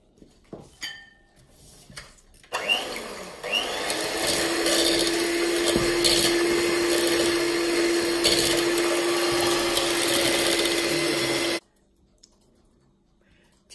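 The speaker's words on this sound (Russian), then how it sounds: "Сейчас будем взбивать до пышной массы" Electric mixer whipping a sweet dough batter of flour, sugar, vanilla sugar and salt into a fluffy mass for a custard pie, a steady loud motorized whir running unbroken for about nine seconds before cutting off.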